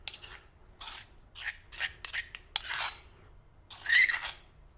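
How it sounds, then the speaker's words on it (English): Romesco sauce paste is stirred in a container, giving a series of short scraping and clinking strokes in irregular bursts, faint and close, with quiet gaps between them. "so now we just have to mix"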